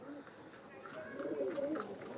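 Pigeon of a black-tailed fancy breed cooing softly nearby, a short low gurgling coo over faint background noise, with a voice talking.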